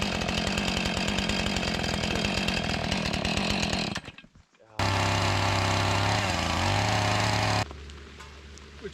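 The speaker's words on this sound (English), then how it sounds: "Next I'm going to take the chainsaw and cut the notches." A chainsaw cutting notches into a wooden post for a bunk bed, loud and close, with a steady roaring cut that drops out briefly, then revs back up at a lower droning pitch before idling.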